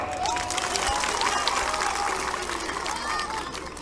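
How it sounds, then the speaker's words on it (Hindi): Applause breaks out from a large crowd at a political rally in Kushinagar, a dense, steady patter of clapping with scattered cheers that carries on for several seconds and eases slightly toward the end; voices mix in beneath it. "सही है, तालियां बजा"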